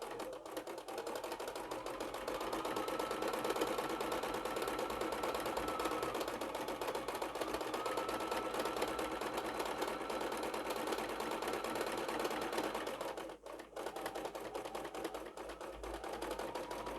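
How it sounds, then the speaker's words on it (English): A sewing machine zigzag stitching a patchwork sling bag made from scrap fabric, running in a fast continuous rattling whir for most of the stretch, with one short pause before it starts up again, fairly quiet and close. "I'm just going to take the zigzag quickly on that side"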